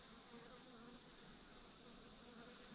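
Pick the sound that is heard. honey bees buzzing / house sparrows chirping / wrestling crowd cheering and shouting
honey bees buzzing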